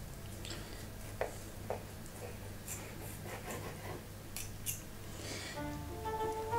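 A knife cutting into a homemade pepperoni and cheese-stuffed bake, heard as faint, soft scraping and slicing with a few small taps, quiet against the room.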